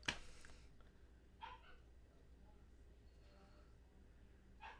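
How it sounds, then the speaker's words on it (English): A dog barks faintly a few times, with short, spaced yelps at a distance over low background noise. "She just lets him bark."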